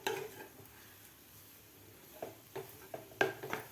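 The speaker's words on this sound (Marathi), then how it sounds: "आणखीन आपल्याला 1 मिनिटभर हे परतून घ्यायचं आहे मिश्रण." A rava and coconut modak mixture is sautéed in a pan, quiet scraping and stirring strokes with a few sharper utensil clinks near the end over a faint steady background.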